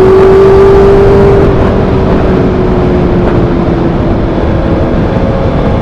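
A motorcycle fitted with an SC Project exhaust bought from Amazon roars loudly and close, a dense sustained engine drone with a faint tonal whine that eases slightly after the first second and holds steady.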